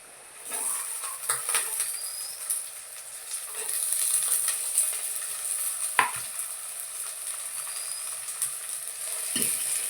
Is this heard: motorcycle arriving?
no